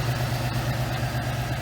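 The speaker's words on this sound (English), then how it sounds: "the way this thing runs, I gotta tell you, it sounds like a brand new engine." A 2015 Ford Mustang GT Premium V8 idling steadily up close, a low even rumble with a faint pulsing throb and no talk over it.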